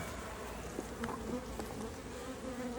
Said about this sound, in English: they're not swarming all over your bee suit.